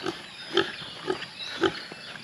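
Pig grunting at a rural backyard pen in the Philippine countryside, four short snorting grunts spaced about half a second apart, fairly close and alone without talk.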